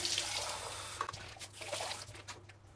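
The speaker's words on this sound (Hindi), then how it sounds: "अब इन सारी बॉटल्स को रनिंग वाटर में आप अच्छे से धो लें।" Baby bottles are rinsed under a running tap, water splashing and gurgling unevenly in and around the bottles with a few squishy knocks, close and steady throughout.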